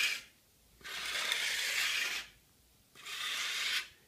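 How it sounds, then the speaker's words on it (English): Coarse 60-grit sandpaper rasping over a wooden wing aileron in two long strokes, each a steady scratchy burst of about a second or more separated by quiet pauses, close and alone. "When you start sanding something rough like this, it's slow go, it's awkward, and it's clumsy at first."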